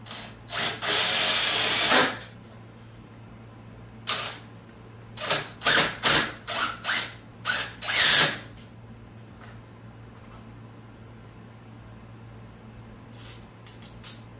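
A power drill drives long screws into wood in short whirring bursts: one long run, then several brief pulses and a final burst, close and loud over a steady low hum with quiet gaps.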